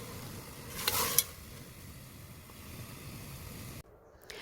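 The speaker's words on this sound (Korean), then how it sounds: "고기 잡내를 없애기 위해 끓는 물에 고기를 한번 데쳐줄게요" A quiet, steady bubbling and hiss of boiling water as meat is blanched for seaweed soup, with a brief louder splash and clink near the start, then the noise continuing softly.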